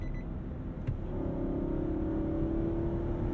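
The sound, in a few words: 2022 Nissan Armada engine downshifting and accelerating on highway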